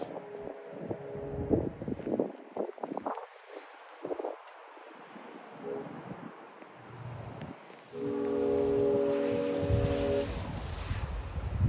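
A passenger train with an MP40 diesel locomotive rumbles past a level crossing, with rustling wind and the crossing's tones sounding; a steady horn-like chord swells loudly near the end.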